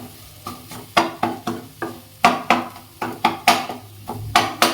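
An egg and tomato mixture fries in a non-stick pan while being stirred, each of about a dozen rhythmic spatula scrapes landing close and clear over a soft sizzle.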